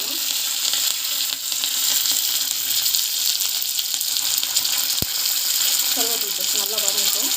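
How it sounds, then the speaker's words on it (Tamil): Curry leaves fry in hot oil for puli kolambu, giving a steady, loud crackling sizzle throughout, with one sharp click midway and a faint voice near the end. "கருவேப்பிலை போட்டு நல்லா வதங்கட்டும்"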